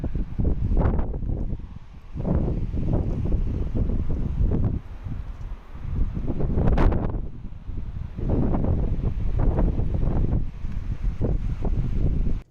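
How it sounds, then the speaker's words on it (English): Strong gusts of wind buffet and roar against the microphone in surging waves, loud and continuous outdoors. "It is so windy outside"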